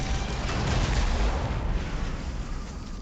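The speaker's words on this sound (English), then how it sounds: "Gutbuster mega cannon." Gutbuster mega cannon firing in the Warhammer 40k Armageddon video game: a dense, continuous wall of booming artillery-like blasts and rumble, loud and sustained with no talk.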